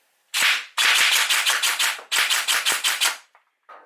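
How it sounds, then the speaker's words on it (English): Gel blaster firing gel balls through a chronograph in rapid strings of sharp, loud cracks, two bursts of about five and four shots with a short gap between, close to the microphone. "Let me just shoot through the other gels and prime this mag up"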